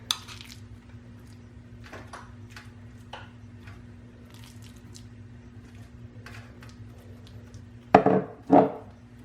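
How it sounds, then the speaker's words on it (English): A pan handled on a kitchen counter as bread goes in and tuna is spooned on top: faint scattered clicks and taps over quiet hum, then two louder scraping clatters near the end. "I just take a pan, put my bread in, spoon the tuna on top."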